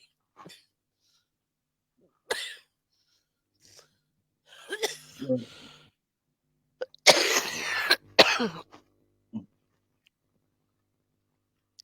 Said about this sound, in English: as soon as she stops coughing